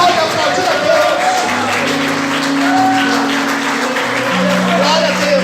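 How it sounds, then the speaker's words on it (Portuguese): A church congregation applauds and cheers during an evening worship service, a steady mass of clapping with crowd voices and sustained tones from instruments or singing underneath, spread evenly across the whole stretch. "Será que você pode aplaudir a Deus?"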